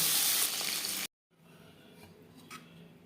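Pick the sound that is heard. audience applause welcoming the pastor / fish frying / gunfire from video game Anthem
fish frying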